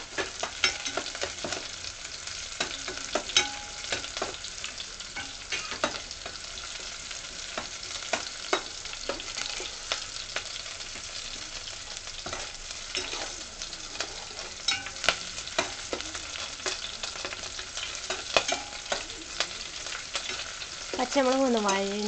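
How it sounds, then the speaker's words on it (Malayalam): Green chilies, ginger and garlic fry in a pan for an amla pickle, with a steady close sizzle throughout and frequent spoon scrapes and stirring knocks over it; no talking. "ഇനി ഇതിലേക്ക് നമുക്ക് അരിഞ്ഞു വെച്ചിരിക്കുന്ന പച്ചമുളക് ആഡ് ചെയ്യാം."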